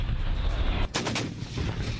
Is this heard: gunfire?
yes